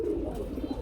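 A grizzle pigeon gives a brief, soft, low cooing call. The rolling coo pulses sound close by, with nothing else heard.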